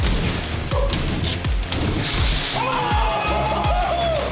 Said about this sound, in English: Seeing my house get filled with thousands of gallons of water is insane